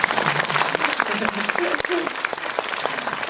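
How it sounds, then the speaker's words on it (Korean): Audience applause rises at a film press conference for an actress's movie, a burst of clapping with voices talking over it. "박수 한번 치고 갈까요?"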